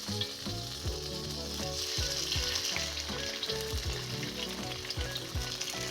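Pork dropped into a very hot wok for a hard sear sizzles loudly and steadily, with a dense frying crackle and some faint clatter running the whole way through. No one speaks.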